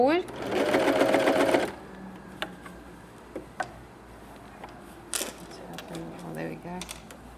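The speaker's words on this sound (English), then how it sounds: "start overlocking towards you, and just rotate that fabric as it comes" A Pfaff Coverlock 3.0 overlocker stitches fabric in a fast, buzzing mechanical run for about a second and a half, then stops, leaving faint clicks and handling noises while a person talks.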